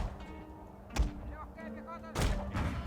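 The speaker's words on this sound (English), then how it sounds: "Nice, cannons start firing already." Cannon artillery fires in a Total War battle game with Russian troops, two booming shots about a second apart over a low battlefield background and quiet talk.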